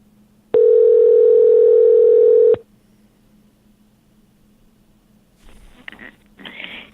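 A loud, steady telephone line tone lasting about two seconds as a call is placed, then cutting off to quiet line hiss with faint soft clicks and rustles.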